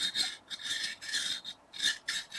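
A file rasps in repeated strokes along the edge of a soft steel knife blade, catching as it goes, close up and alone, with brief pauses between rhythmic passes.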